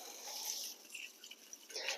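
Water trickles and splashes softly onto the soil at the base of rose plants in a summer garden, a faint continuous pour with small splattering bursts.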